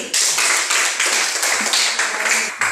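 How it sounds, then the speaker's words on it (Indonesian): A small group clapping hands steadily and loudly nearby, a dense patter of claps with no voices. "tepuk tangan untuk Ijati"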